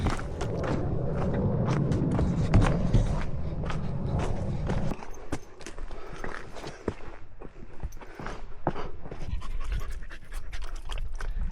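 Dogs panting steadily and close while out on a forest hike, breathy rhythmic huffs with scattered footsteps crunching along the trail.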